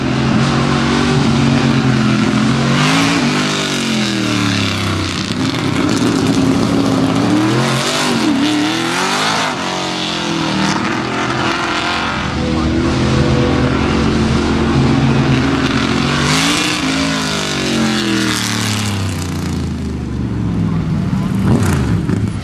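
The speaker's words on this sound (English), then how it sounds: "it gives you the opportunity to ride along on the autocross track and experience old school muscle" A 550-horsepower old-school muscle car runs an autocross track at a Ford Nationals show, its engine roaring, revving and shifting loudly and steadily throughout, with a commentator speaking over it.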